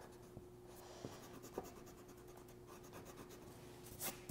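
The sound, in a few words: pencil eraser rubbing on paper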